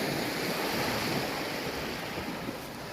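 Sea waves wash onto a fine-sand beach at Khao Phlai Dam in Nakhon Si Thammarat, Thailand, around midday in a light breeze, a constant close surf roar mixed with wind rumble.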